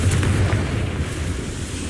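A Confringo spell explodes in the Hogwarts Legacy video game as a low, rumbling blast with a deep booming body. The rumble fades slowly over the next couple of seconds.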